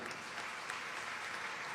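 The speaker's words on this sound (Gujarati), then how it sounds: "ખરેખર બધાને તાળીઓથી વધાવી લો" Audience applause at a devotional gathering, a dense, even wash of many hands clapping at once for a brief stretch.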